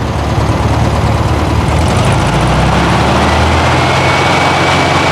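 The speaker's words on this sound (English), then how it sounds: "put it on the high choke, let's fire it up" A 1972 VW Karmann Ghia air-cooled engine, freshly tuned and on high choke, runs loud and close in a constant dense roar, holding a fast high idle with a slight rise partway through.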